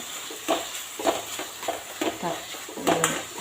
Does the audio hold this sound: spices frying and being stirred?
yes